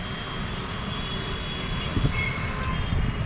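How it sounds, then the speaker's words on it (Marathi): A steady low rumble with a faint whine, like a metro train idling or easing into a station, heard from a distance in the open air. "उभा राहिली मेट्रो स्टेशनवर"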